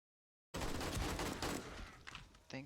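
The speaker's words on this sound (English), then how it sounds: "Thank God for machine guns." Burst of rapid machine gun fire in the Star Trek Judgement Rites video game, a loud dense fusillade starting abruptly and tapering into a few separate shots.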